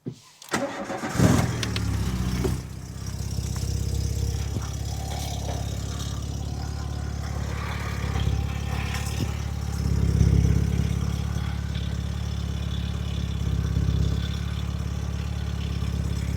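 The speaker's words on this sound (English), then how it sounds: "I'm not completely happy until I've started the engine and checked for leaks" A Mk2 Golf GTI engine cranks and catches, then settles into a steady, rumbling idle that runs for the rest of the stretch with slight swells in level and no voices.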